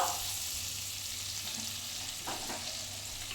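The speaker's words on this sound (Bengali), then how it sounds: "ওই চিকেন ভাজার তেলের মধ্যে আবার সামান্য পরিমাণ একটু বাটার দিয়ে দিলাম।" Butter melting into the leftover oil from frying chicken, a continuous bright hiss and sizzle with a few soft stirring scrapes near the end.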